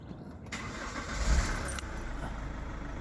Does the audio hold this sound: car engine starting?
yes